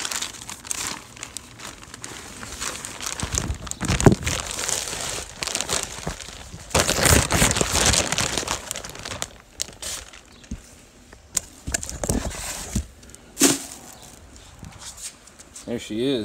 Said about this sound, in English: All wrapped up in a plastic bag.